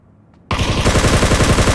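Sustained automatic gunfire from a Ring of Elysium match bursts in suddenly after a quiet moment, a rapid, loud, even stream of shots that carries on to the end with no one talking over it.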